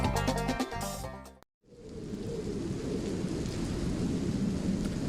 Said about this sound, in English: The rain continues, so I'm guessing that the grass in these parts will definitely be growing.